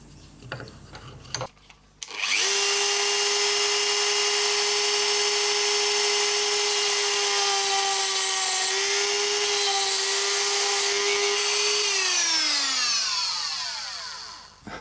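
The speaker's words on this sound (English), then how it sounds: "we're just going to cut that now with the Dremel, and we'll get it really close to the line" A Dremel rotary tool cuts a part for a Crusader 60 model aircraft engine built without castings, whining loud and steady at a high pitch for about ten seconds, then spinning down at the end.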